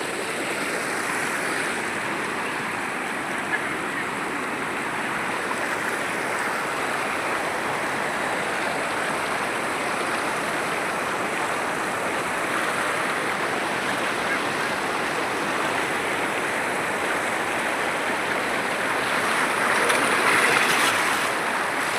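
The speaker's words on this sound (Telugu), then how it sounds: "నీళ్ళు చూడండి ఎంత వేగంగా వస్తున్నాయో." Floodwater rushes fast through a village stream after heavy rain, a steady, dense roar of churning water that holds evenly throughout.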